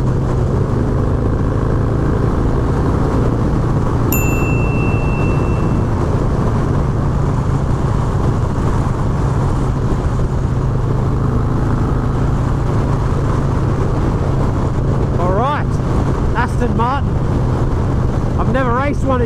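Harley Davidson motorcycle engine rumbling at speed while racing an Aston Martin car, buried under loud, steady wind buffeting across the whole stretch, with people talking now and then.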